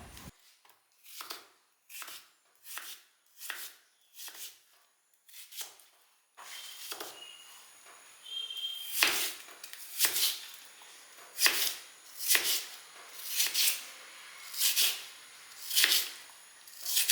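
Peeled cucumber cut with a knife on a board, a steady series of crisp separate chops, soft at first then louder and more regular, close up with no talking.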